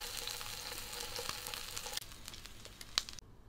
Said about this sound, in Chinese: 现在咱们煎的已经非常到位了，给它出锅